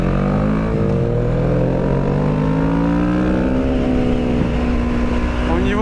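A rally car engine drones loud and near, its pitch rising and sliding as the revs climb steadily, with talking heard over the engine noise.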